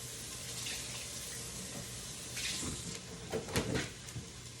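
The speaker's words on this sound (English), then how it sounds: "Let me just rinse that off if I still need it actually." A running kitchen tap rinses nonstick cookware, a steady splashing water stream nearby that grows louder with sharper splashes as the pan is moved under it.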